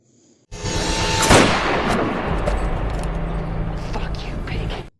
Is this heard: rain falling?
no